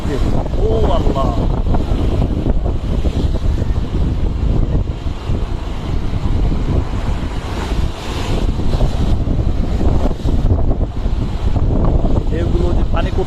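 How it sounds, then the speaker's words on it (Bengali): Rough sea surf pounds the shore during Cyclone Remal as strong wind roars across the microphone, a dense, loud, continuous wash with no pauses. "এতটা উত্তাল সমুদ্র আর কখনো দেখি নাই।"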